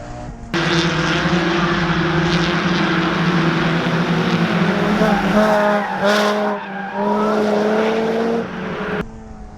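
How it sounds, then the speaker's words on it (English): Loud, strained supercharged Mazda ND Miata engine roar with tire squeal on a skid pad, close up, sustained for several seconds with pitch rising and dipping, then cutting off abruptly. "Supercharger sounds angry."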